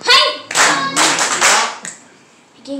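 Energetic hand-clapping from a concert audience at a kids' festival live show in Fukuoka: several loud bursts of close, dense claps with brief gaps, then a quieter stretch before clapping resumes.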